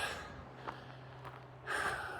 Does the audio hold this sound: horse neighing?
no